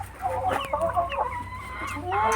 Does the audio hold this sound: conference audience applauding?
no